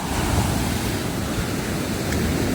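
Sea waves break and wash onto a beach at early morning, a loud steady surf roar with wind buffeting the microphone.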